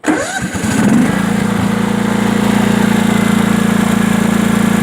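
A Sears Craftsman 42-inch riding lawn mower's Honda engine, choked, cranks with a few rough turns, catches after about a second, and settles into a loud, steady, buzzing idle nearby.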